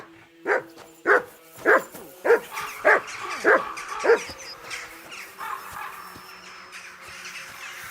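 Dog barking in Kingdom Come: Deliverance II, a run of about eight sharp, evenly spaced barks that grow fainter toward the end over a quiet game background.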